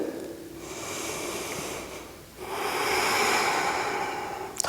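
Slow, steady breaths during an ashtanga yoga pose: a long airy inhale then a breathy exhale, close and fairly soft, with no talking.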